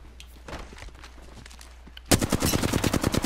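Automatic gunfire in the battle royale game Apex Legends erupts loud and rapid after a quieter stretch of faint footsteps and movement, continuing as a dense burst of shots to the end.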